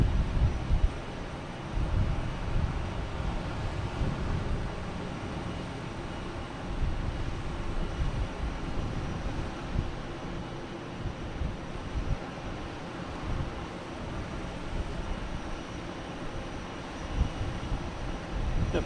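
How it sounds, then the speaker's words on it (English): A JetBlue Airbus A220 jet taking off at Boston Logan Airport, heard from a distance as a broad, steady engine roar rising and holding for the whole stretch, fairly faint and washed with wind noise. "We have a JetBlue taking off, heading to Detroit in A220"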